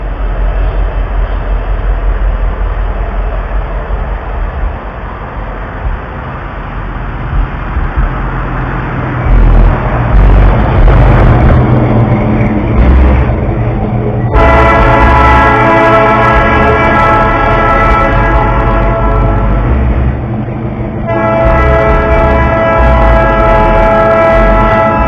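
A loud, continuous rumble of a passing train in Shreveport, joined midway by a long sustained horn blast that cuts off, then sounds again near the end.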